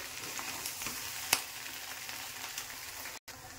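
Maggi noodles are tossed with spices in a hot pan, producing a soft continuous sizzle with occasional light scrapes and one sharp click, quiet and close with no voices.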